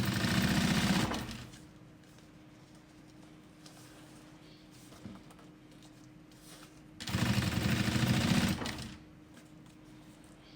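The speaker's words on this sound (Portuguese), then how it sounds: "E aí eu faço a costurinha em cima dessa mesma costura." Sewing machine stitching a seam on a fabric travel case, two short bursts of rapid mechanical whirring separated by quiet handling sounds.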